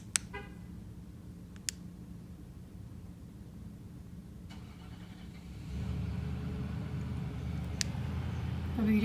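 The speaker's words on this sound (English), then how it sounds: "Remote start." A Nissan Titan Pro 4X is started by remote start in cold weather, a few clicks giving way to the engine catching and settling into a low, steady idle heard from nearby outdoors.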